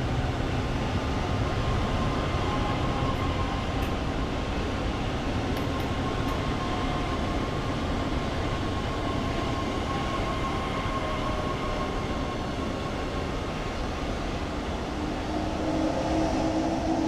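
An IC 2 double-deck intercity train cruising at speed in Train Sim World 4 between Oldenburg and Bremen, with a steady, loud rumble of wheels and running gear that holds constant throughout.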